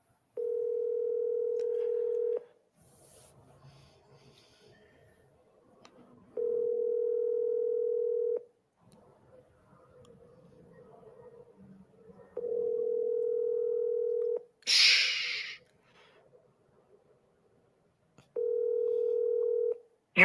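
Steady telephone ringback tone in four long even pulses with pauses between them, each roughly two seconds, while an outgoing call is placed; a brief rustle or click falls in one gap.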